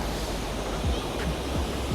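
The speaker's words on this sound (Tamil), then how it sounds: "அமைதியான தண்ணி நல்ல இந்த தண்ணி சத்தத்தை கேட்கவே ஆசையாக இருக்குது" Calm water laps softly at a quiet, nature-surrounded salmon-run spot in Canada, a gentle steady wash with faint wind noise and no voices.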